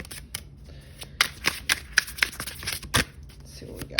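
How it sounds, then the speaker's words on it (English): Cards from a Hobbit-themed deck are shuffled close up, with crisp, irregular riffles and slaps repeating across the clip and peaking in a sharp burst near the end, with no talking. "just keep shuffling"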